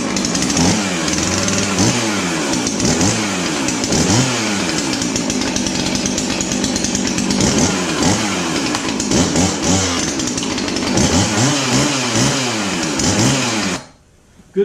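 A Stihl-style 450 chainsaw runs loud and close with repeated revving swells, idling between throttle bursts for about fourteen seconds before cutting off abruptly near the end.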